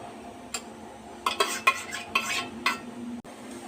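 Beetroot being stirred with thick curd in a bowl, a spoon scraping and clinking against the side in a handful of short, close strokes, with no voices.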